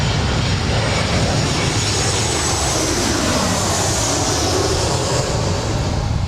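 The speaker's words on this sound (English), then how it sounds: "That was Southwest 4136 coming in from San Francisco. It's a 737-700." A Southwest Boeing 737-700 landing at LAX, its engines producing a loud, steady broadband roar that fills the whole stretch, with a slowly shifting tone as the jet passes close by.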